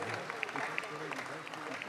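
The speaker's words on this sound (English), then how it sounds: "Let's give them another big round of applause" Audience applause at a youth 4-H/FFA dairy cattle show at the Kentucky State Fair, a steady patter of clapping from a crowd filling the hall, moderately distant and fairly even throughout.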